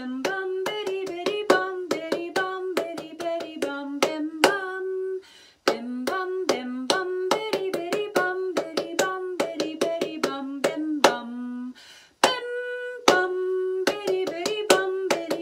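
Hand clapping rhythm practice for a fourth grade music lesson, crisp close claps in repeated syncopated patterns with short pauses between phrases, clear and alone without talk.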